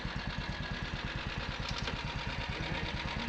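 A Moto Guzzi Spyder motorcycle engine running with its flywheel, a steady loping mechanical thump at a quick even rhythm, close and continuous without speech.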